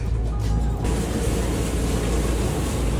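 An air conditioner in a home kitchen runs with a loud, steady broadband roar and low hum, constant and close with no talking.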